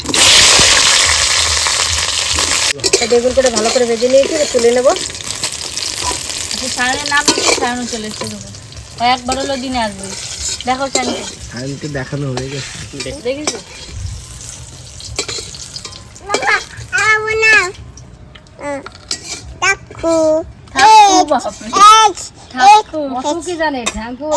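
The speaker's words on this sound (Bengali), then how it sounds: "বেগুনগুলো একটু ভেজে নেবো" Eggplant frying in a pan for a home fish curry, sizzling and stirring clatter beneath steady speech, with a voice among the talkers throughout.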